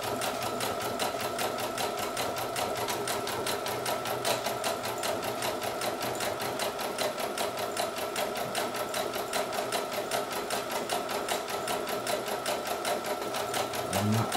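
A Brother SE1900 embroidery machine stitches a design directly onto a onesie, its needle hammering in a fast, even mechanical rhythm with a steady motor hum, close and continuous throughout.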